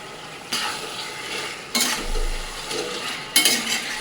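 Chicken leg pieces sizzle in a pan with spice paste while being stirred, a steady low frying hiss broken by three louder bursts of scraping and spluttering as the spoon turns the meat.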